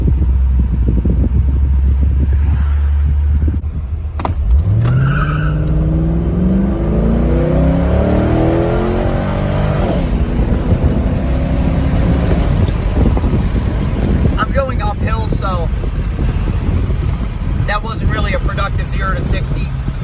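A C5 Corvette Z06 engine idles, then roars hard through rising revs and gear changes as it accelerates from 0 to 60, with wind buffeting and brief chatter later.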